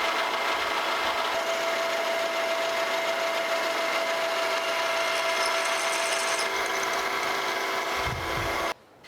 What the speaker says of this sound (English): we're just going to go ahead and put another hole through here just to get some more metal out of there